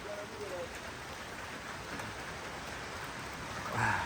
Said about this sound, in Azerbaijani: çox bərk yağış yağır